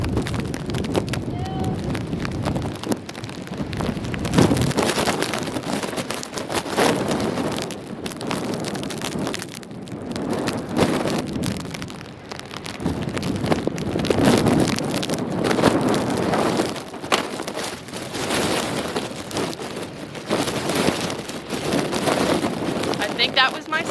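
Gusty wind buffets the microphone in heavy, uneven bursts outdoors on a cold day in Ohio while a person talks underneath.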